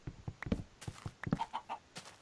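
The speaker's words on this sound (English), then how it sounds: "Chicken." A chicken in the Minecraft video game clucks several times in a quick, uneven series of short, soft calls amid light clicks of game movement, with nobody talking.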